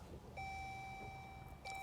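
A 2023 Chrysler Pacifica chiming as the car is switched on: two clean electronic tones, one long sustained beep followed by a short second one, close and clear over quiet cabin noise.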